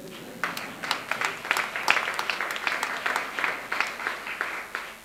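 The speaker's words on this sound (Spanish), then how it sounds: "Sí, sí, podéis aplaudir" Applause from an audience at a queer municipal policy conference, with many hands clapping in a dense, steady wash that lasts several seconds, moderately loud and somewhat distant, with no speech over it.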